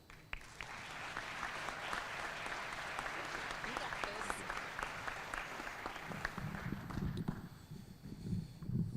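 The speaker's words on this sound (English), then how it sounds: "Please join me in a warm round of applause for Matthew Shelley" Sustained applause from a crowd at a university fall commencement ceremony, steady and somewhat distant, with murmuring voices rising as it tapers toward the end.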